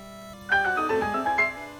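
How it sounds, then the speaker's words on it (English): Unlock chime for a new sentence in a Japanese learning video game: a short bright run of rising synth tones, close and clean, lasting just over a second with nothing else heard. "That's the sound of discovering that new sentence has been unlocked."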